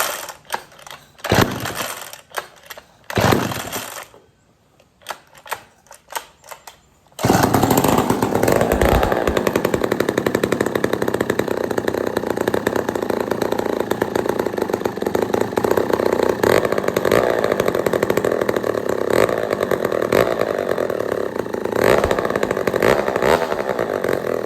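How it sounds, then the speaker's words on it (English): A McCulloch 440 chainsaw gets a few short sputtering start attempts with gaps between them, then catches and runs loud and steady, its engine roaring close up for the remainder. "We got a running saw."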